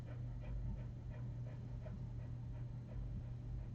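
A dog panting steadily with quick rhythmic breaths over a constant low hum, close by, with no talking.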